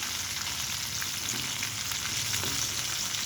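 Pineapple chicken fry sizzles in hot oil, a steady, dense crackling hiss that holds close and even throughout with no voices.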